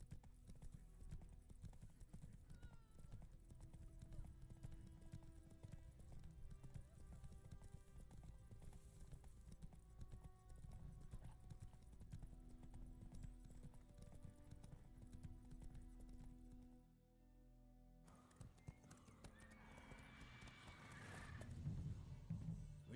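Horse hooves clip-clop in a steady rhythmic gait in The Witcher 3 game, with a whinny, over game music, pausing briefly before resuming with louder, busier sounds.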